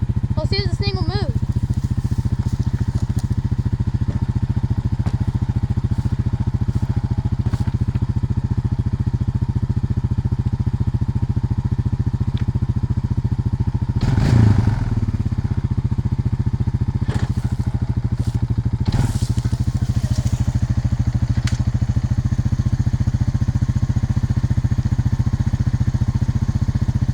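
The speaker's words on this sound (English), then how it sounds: "we're gonna test the gears on it, first and reverse" A Honda Rancher ATV, abandoned for six years, runs with a steady, loud, low engine drone while its gears are tested, with a few clunks and revs breaking through partway, and someone talks over it.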